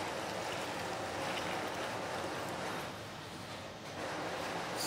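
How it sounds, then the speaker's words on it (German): Water swishes and rushes steadily as a cup is rinsed out while Maultaschen dough is being made, a continuous close wash of sound that dips briefly near the end. "das Wasser, das spülen wir den anderen Becher ein bisschen damit aus"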